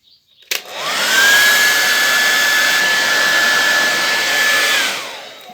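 Blow dryer switched on inside a greenhouse for a temperature and humidity test, starting with a click and then a steady close whirring blast with a high whine that holds for several seconds before spinning down.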